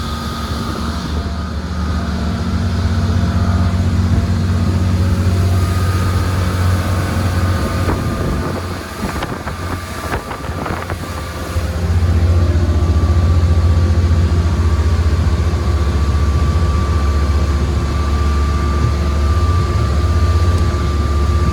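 A Crownline 220EX boat with a Mercruiser 5.0L MPI 260HP Bravo II engine cruises at 3,000 RPM. It makes a loud, steady low drone with water noise, which dips briefly near the middle before evening out again.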